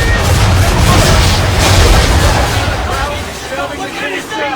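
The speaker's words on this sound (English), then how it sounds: "Gunboats are above! Why is he shooting at us?" Cannon fire from gunboats in Assassin's Creed III during a naval battle, a loud, continuous barrage of deep booms and rumbling blasts with shouted voices mixed in throughout.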